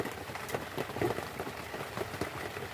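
Rain falling during an outdoor fishing trip, a faint, steady patter of drops with soft scattered taps on surfaces nearby.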